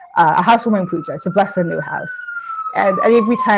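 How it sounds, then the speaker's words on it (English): A siren passing outside wails steadily in the background, sliding slowly in pitch, while a person speaks over it in the foreground. "excuse the sirens"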